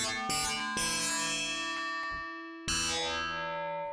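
Synthesized metallic bell tones made in the Vital synthesizer ring out as three separate bright strikes, each with a long, slowly fading shimmering tail.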